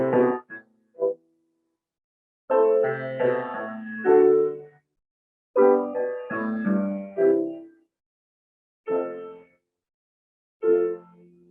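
Piano with cellos and bass playing the Paganini theme in a Rachmaninoff variation: short, spaced orchestral phrases with sustained low string tones, moderately close, separated by silent gaps.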